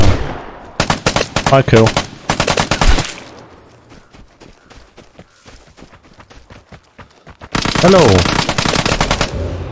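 Loud bursts of automatic gunfire in the online shooter game Vigor, two rapid volleys, a quieter gap with distant shots and footsteps, then another sustained burst, with players talking briefly over it.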